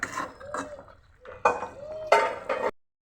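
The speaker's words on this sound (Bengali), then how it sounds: "মাংসটা একটু নেড়ে দিচ্ছি।" A spoon stirs beef curry in a cooking pot, making several close, wet scrapes and clinks against the metal in short bursts before the sound cuts off.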